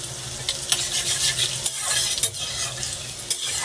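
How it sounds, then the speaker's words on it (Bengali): Chopped garlic and ginger sizzling in a hot pan, a bright steady crackle with stirring scrapes throughout, close and loud with no talk. "আমার প্যানটা হিট হয়ে গেছে, দিয়ে দেবো হচ্ছে রসুন কুচি, দিয়ে দেবো হচ্ছে আদা কুচি"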